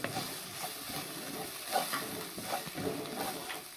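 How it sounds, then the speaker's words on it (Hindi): Ginger garlic paste and green chillies frying in a pan for a chicken vegetable bun filling. A faint sizzle runs under gentle, irregular stirring scrapes, and no one speaks. "और ये अदरक लहसुन का पेस्ट आ गया इसको भी मैं भून लूँगा"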